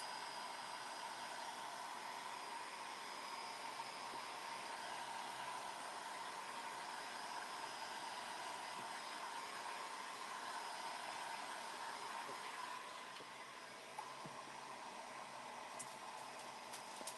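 Hair dryer running steadily to dry the front of a craft project, a constant loud whoosh of blowing air throughout with no pause.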